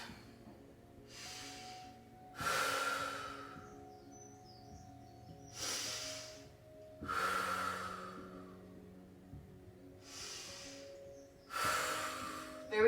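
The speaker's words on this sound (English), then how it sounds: "Taking 3 grounding breaths." Slow, deep breaths during a yoga practice, each long inhale and exhale audible and close, repeating in a calm rhythm several times.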